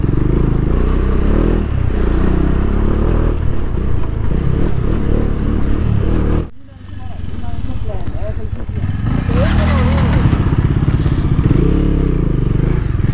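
A Bajaj Dominar 400 motorcycle rides a rough off-road trail, its engine loud and close with steady rumble, clattering rattles and scrapes, dipping briefly midway before roaring back.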